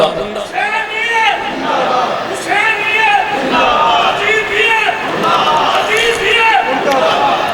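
A crowd at a religious gathering honouring Imam Hussain chants a slogan in loud, rhythmic, repeated call-and-response bursts, voices massed together with a steady crowd roar underneath.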